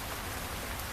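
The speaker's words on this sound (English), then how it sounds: "I really wanted to do a video in the rain." Steady rain falls on a patio, a soft, even hiss of many drops with no voices.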